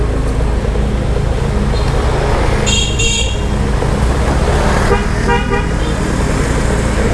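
Busy night street in Legian, Bali, after all-day rain, with scooters and a few cars passing in a steady close roar, several short horn toots sounding around the middle and again later.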